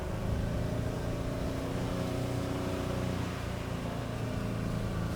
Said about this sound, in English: I do not like how the engine is revving that high